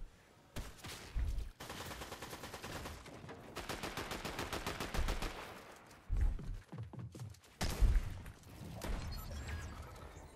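Shotgun blasts from a pump shotgun in the video game Fortnite, a loud battle of repeated gunfire bursts and heavy thuds with scattered impacts, rising to sharp peaks near the end.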